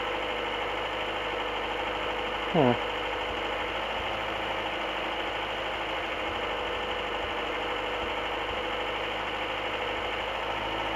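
A Honda car engine idles after a jump start, an even mechanical drone and hum continuing throughout, with one brief higher chirp early on.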